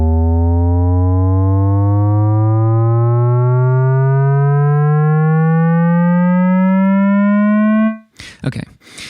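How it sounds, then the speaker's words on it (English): A synth riser built on an Operator square 6 waveform sweeps steadily upward for about eight seconds as a loud, buzzy, harmonically dense tone, then stops abruptly and a voice begins talking. "I'm going to go to a square 6, which is just going to give us more harmonics here"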